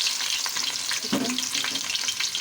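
Chopped onion fries in hot oil in a pan, giving a close, steady crackling sizzle with light stirring scrapes and no voices.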